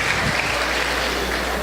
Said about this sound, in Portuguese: Uma salva de palmas para mim, por favor